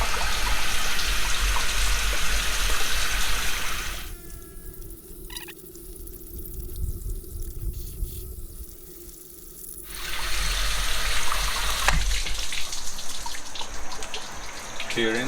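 Loud rushing water gushing steadily as a car engine is flushed, breaking off for several seconds to a quieter hollow hiss and drips, then surging back strong, close up.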